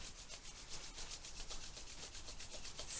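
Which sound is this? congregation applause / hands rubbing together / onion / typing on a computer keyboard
hands rubbing together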